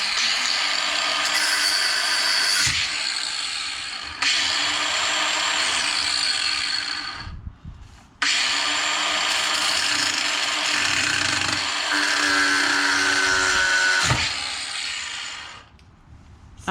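A power tool cuts through fiberglass near bonding agent during a major restoration, a loud, close, high-pitched grinding whine running in long bursts with short pauses between them and no talk over it.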